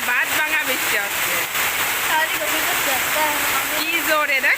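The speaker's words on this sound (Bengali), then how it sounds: "মুষলধারে বাদ ভাঙা বৃষ্টি হচ্ছে।" Heavy torrential rain pours down steadily in the evening, a dense, loud wash of noise that holds constant throughout, with brief pitched sounds rising faintly through the downpour.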